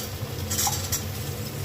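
Potatoes and onions are stirred as they fry together in a pan for a spicy ridge gourd, potato and shrimp curry, with light scraping clinks of a utensil over a soft, steady frying hiss.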